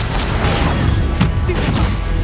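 Confringo blasting spell cast in the Hogwarts Legacy video game, a dense rumbling burst of game combat with sharp crackling impacts and a brief bright zap, loud and continuous through the short moment.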